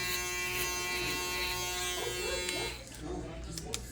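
An electric foil shaver blending a haircut in a barbershop, its steady harmonic buzz running loud and close for most of the moment before dropping away, with brief clicks and handling noise at the end.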